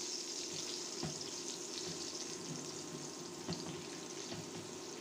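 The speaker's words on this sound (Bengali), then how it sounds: "ফ্রাই প্যান গরম করে সয়াবিন তেল দিয়েছি, দিয়ে দিচ্ছি পটল" Pointed gourd frying in hot soybean oil in a frying pan, giving a steady, even sizzle with faint crackles and a few soft knocks against the pan, with no voices.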